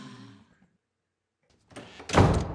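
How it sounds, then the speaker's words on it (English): A door slams shut in the animated film Inside Out, a loud, sharp burst near the end after a brief voice and a stretch of near silence. "Ooh, and she slammed her door."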